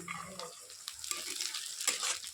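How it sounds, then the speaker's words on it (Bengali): Onions, chopped green chilli and carrot frying in a pan, a soft steady sizzle with faint scraping from stirring, close and fairly quiet. "পেঁয়াজটা আমি কিছুক্ষণ লাল করে একটু ভেজে নেবো"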